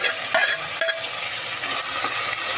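Onions fry with ginger garlic paste in a pan for a drumstick curry, giving a steady loud sizzle and occasional scrapes of a stirring spoon, close up.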